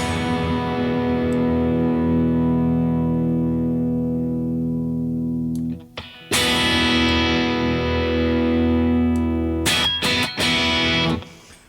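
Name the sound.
electric guitar through overdrive pedal, tone setting adjusted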